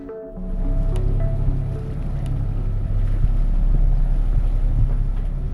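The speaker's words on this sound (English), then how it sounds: "The winds are picking up a little bit, pushing us along a little bit better, a little bit faster." Wind roars steadily across a sailboat under way in the Strait of Gibraltar, a loud, continuous low rumble with microphone buffeting and faint rushing water, no voices.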